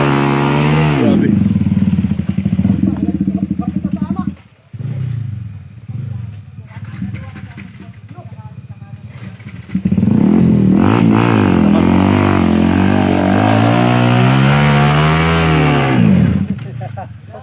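A motorcycle engine revs and runs close by, loud and rough with a dip in the middle before it roars back up, accompanied by clatter and with voices talking over it.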